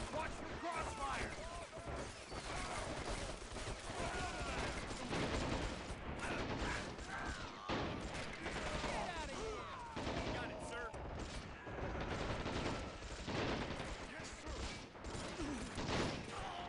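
Dense, continuous gunfire in a Call of Duty campaign battle, with rapid machine-gun bursts, scattered rifle shots and crashes layered thickly throughout, while voices shout over the din.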